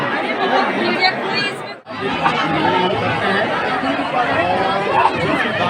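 A dense crowd of devotees mills at a Shiva temple on Mahashivratri, a constant close babble of many voices with a brief dropout near the two-second mark.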